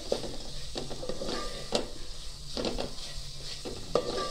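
Spices frying in oil over a low gas flame for a dal tempering, a soft steady sizzle under repeated stirring scrapes and light clinks of a spoon against the pan.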